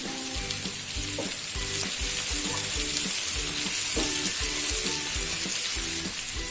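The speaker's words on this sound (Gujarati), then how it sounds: "હવે આપણે ટમેટું મરચું નાખી દઈશું" Tomato and chili go into a frying pan with cooked potatoes and peas for vegetable wheat-flour Maggi noodles, producing a loud, continuous close-up sizzle with no talking.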